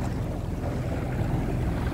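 A low-hour Yamaha FZ-R 1800 SHO personal watercraft engine runs in a trial, giving a steady, dense rumbling drone up close with no voices over it.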